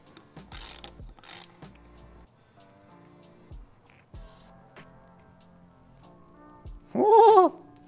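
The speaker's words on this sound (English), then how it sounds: "can use our swanky chamferless Fox tool and a ratchet" A ratchet turns a chamferless Fox tool on a Fox 38 mountain bike fork, giving quick bursts of close, crisp clicking between pauses, followed near the end by a short vocal exclamation.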